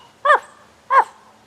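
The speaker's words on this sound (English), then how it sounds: "But the dogs kept on barking" Two short, sharp barks from dogs outside a cave where a bear has just been killed and butchered. The barks come about half a second apart, fairly close and clear, against a quiet background.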